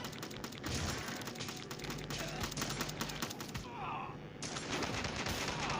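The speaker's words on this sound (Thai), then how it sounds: "มันยิงแบบยิงไวมาก" Rapid, continuous gunfire from the Dead Ahead: Zombie Warfare game, a dense unbroken stream of shots that stays loud throughout, with only a brief thinning partway through.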